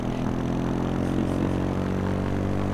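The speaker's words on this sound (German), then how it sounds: "Jetzt muss ich halt mit dem Quad fahren." A quad bike's engine in the video game H1Z1, a steady, loud, low droning hum with a constant pitch, running alone without talk.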